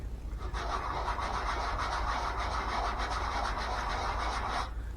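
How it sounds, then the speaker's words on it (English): Small plastic parts for a fishing gadget are rubbed back and forth on sandpaper to smooth nubs off their bottoms, making a steady, close, gritty scraping that runs almost continuously for several seconds with no talking. "we're going to rub these on the sandpaper here real quick"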